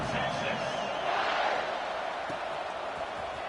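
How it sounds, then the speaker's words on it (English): A stadium crowd at an Auburn vs Texas football game buzzes steadily after a score, a dense, continuous roar of many voices that holds at an even level throughout. "this crowd is buzzing after that last score"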